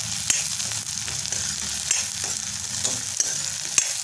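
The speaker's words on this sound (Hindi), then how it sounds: "और इसको भी डालकर फिर इसमें अच्छे से भून लेंगे।" Green chillies frying with chana and urad dal in a pan, a continuous close sizzle with regular light spatula taps and stirring scrapes roughly every half second.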